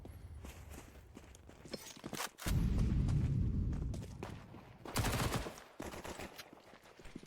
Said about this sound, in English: 2 more kills for Voxic with the SMG